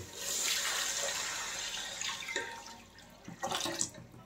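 Water pours into a cooking pot for mutton tahari with ginger already added, a close splashing stream that surges, eases, then gushes again in short bursts, with no talking.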